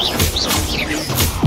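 An Expelliarmus spell cast in Hogwarts Legacy gives several swishing whooshes and bright magical zaps, ending in a short thump, loud and close.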